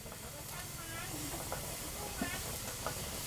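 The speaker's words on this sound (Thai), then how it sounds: "น้ำเดือดแล้วเองน้ำเดือดแล้ว" A steady, close hiss of water boiling hard in a pot over a wood-fired stove, with faint bubbling and occasional brief background voices.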